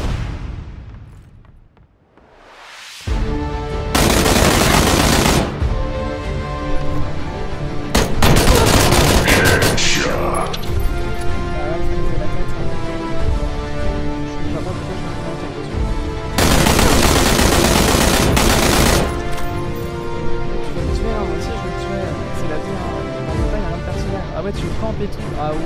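Video game gunfire: after a brief quiet start, bursts of loud automatic fire and shots keep coming close by, with heavy flurries at intervals, while people talk excitedly over the action.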